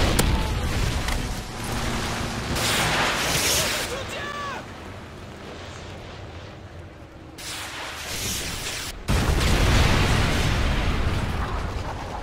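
Predator missile strike in Call of Duty: Modern Warfare 3 during a team deathmatch on the Resistance map, a loud broadband blast and rumble amid ongoing game noise and gunfire, with a second heavy burst near the end.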